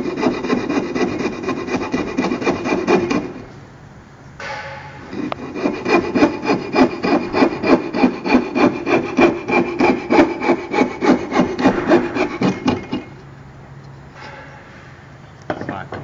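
A hand tool is worked back and forth across wood in close, steady rhythmic strokes while paring dovetail tails down to a marked line, with a few brief pauses between runs.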